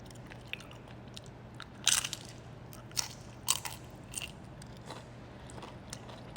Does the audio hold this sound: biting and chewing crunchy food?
yes